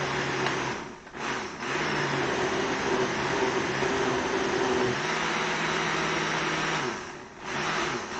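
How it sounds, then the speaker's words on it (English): Countertop blender runs on a low setting with a steady whir, briefly interrupted twice by short pauses as it pulses before the motor resumes. "I'm going to blend this real quick."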